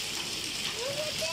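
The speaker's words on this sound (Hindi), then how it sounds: "बड़ी जोर वाली बारिश हो रही है" Heavy rain with hail pours down in a dense, steady hiss close by, while a person's voice is heard briefly over the downpour.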